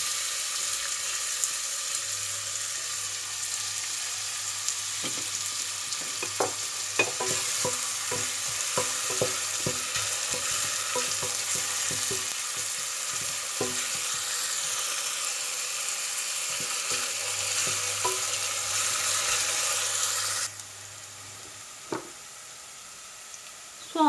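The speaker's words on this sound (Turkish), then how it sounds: "Sonra soğanları atıp kavuracağım." A steady loud sizzle of onions frying in hot oil, with a utensil clicking and stirring through the pan, then the hiss drops off near the end.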